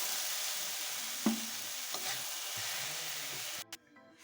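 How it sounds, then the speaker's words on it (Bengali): Vegetables being stir-fried in a pan for homemade veg and egg chowmein, a soft continuous sizzle with a few quick scrapes and taps of a spatula, ending in a clatter as the pan is moved. "দেখুন আর বেশি ভাজার দরকার নেই, এরকম ভাজলেই হয়ে যাবে।"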